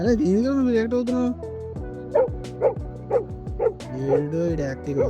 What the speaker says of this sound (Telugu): ఇది యాక్టివ్ వేరే డాగ్స్ చూసి ఎలా రియాక్ట్ అవుతుంది చూడండి.